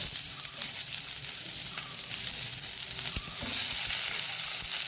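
Chopped onion and tomato sizzle steadily in a spoonful of hot oil for Mangalorean sambar, a continuous close crackling hiss with faint stirring and no talk.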